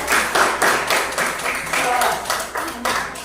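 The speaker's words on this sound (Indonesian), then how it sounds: "Kasih tepuk tangan dulu untuk kelompok Kalajengking." Students in a classroom clap for a fellow student group, a short burst of brisk, pulsing hand claps in a room with a voice faintly underneath.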